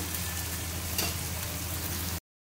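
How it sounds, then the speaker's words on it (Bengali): Tomato frying with salt in a pan for a Bengali rui fish curry, giving a steady close sizzle and crackle that cuts off abruptly near the end, with no talking. "এবারে টমেটোটা কষে নেব।"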